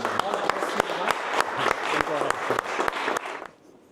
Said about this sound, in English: So please, a big applause for Don